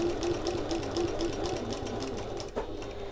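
A sewing machine stitches a narrow hem on a fabric sack, a steady fast mechanical whirring with regular needle ticks, close and continuous before a brief pause near the end.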